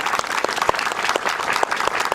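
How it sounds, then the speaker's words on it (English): A round of applause from a gathered crowd at a workforce readiness center grand opening, honoring club kids and staff; steady, dense clapping with sharp individual claps standing out throughout. "Let's give them a round of applause"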